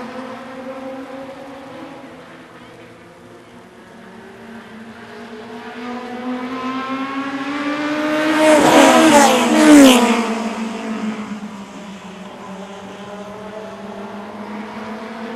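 Short track race cars in the Super Short Track Racing Series 2014 race by with a steady engine drone that swells into a loud, close pass of rising and falling revs, then fades back to a distant hum.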